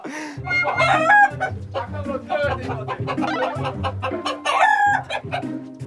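Chickens inside a coop, with dense, near, overlapping clucking and cackling from several birds and a crow-like call rising in between, continuing without pause.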